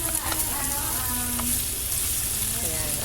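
Chicken wings for a Filipino curry frying in a pan: a dense, continuous close sizzle and crackle, with a faint voice or tone drifting beneath the hiss.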